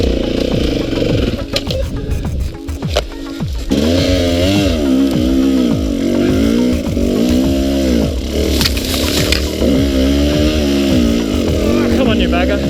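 A 300 two-stroke enduro motorcycle claws up a steep rutted hill over tree roots, its engine revving and bogging in rapid wavering bursts, loud and close, with a rider speaking over it.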